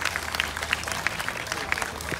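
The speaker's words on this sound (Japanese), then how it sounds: "改めてお二人、大きな拍手をお願い" A crowd claps for two tennis players at a Toray Pan Pacific Open event, a brisk, even patter of applause with scattered sharper hand claps, no talk over it.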